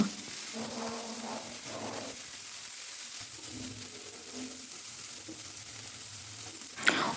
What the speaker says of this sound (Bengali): এক চামচ সাদা তেল গরম করে কিছু সবজি ভেজে নেব